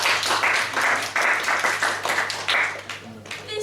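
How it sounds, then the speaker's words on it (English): Applause from a crowd, steady clapping sustained throughout at moderate loudness, with faint background murmur. "I think that deserves some applause."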